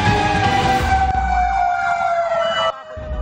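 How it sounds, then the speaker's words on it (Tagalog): Fire truck sirens wail loudly and close by as emergency vehicles respond to a fire in Barangay Tandang Sora, Quezon City, a steady descending siren tone over traffic rumble that cuts off abruptly near the end. "Sunod-sunod ang pagresponde ng mga fire truck sa bahaging ito ng Barangay Tandang Sora, Quezon City."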